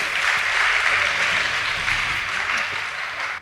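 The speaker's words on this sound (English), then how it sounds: "Please give them a round of applause." Dense, steady applause from an audience at a school debate competition rewards a girls' high school team, a loud continuous wash of clapping with no talking over it.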